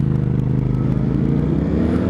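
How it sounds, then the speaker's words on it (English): Loud, steady thrum of a Suzuki SV V-twin motorcycle engine on an evening ride, heard close up with a lumpy, pulsing rumble and whirring wind noise, no voices. "Oh, I do love the sound of V-twin."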